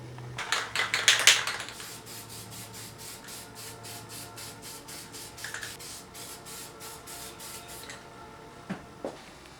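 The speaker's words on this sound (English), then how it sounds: "now I'm going to go ahead and spray them" Spray paint is applied to car parts hung on a hanger for a Triumph GT6 restoration. It comes as a steady, close hiss with rapid sputtering pulses, a louder burst at the start and a couple of brief knocks near the end.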